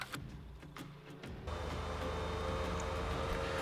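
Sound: video game vehicle engine, electric-sounding motor

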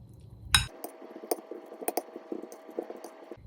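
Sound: mixing boiled cauliflower with yogurt in a bowl

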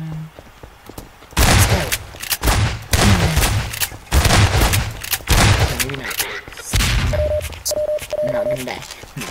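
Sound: shotgun firing in the video game Garry's Mod

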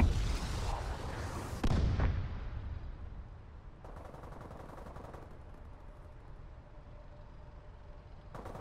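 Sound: enemy missile strikes in Call of Duty: Advanced Warfare video game

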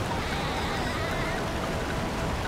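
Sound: waterfall in video game SpongeBob Battle for Bikini Bottom

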